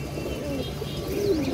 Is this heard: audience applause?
no